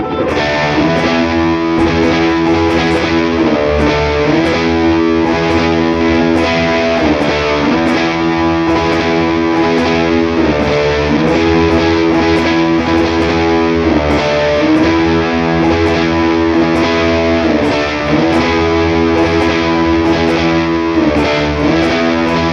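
Electric guitar played through a Chase Bliss Brothers AM distortion pedal with gain turned fully up, a thick, saturated, sustained tone repeating a simple back-and-forth riff loudly and continuously.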